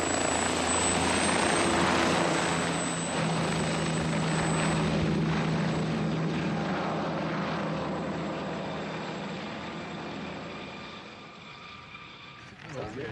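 A helicopter flying to a backcountry lodge at Mount Assiniboine in the Canadian Rockies, its steady rotor and engine drone loud and continuous before fading gradually, with a person talking over it.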